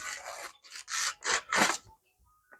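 A very sharp knife cuts through crumpled paper in four or five short, raspy strokes, close and distinct, ending in silence.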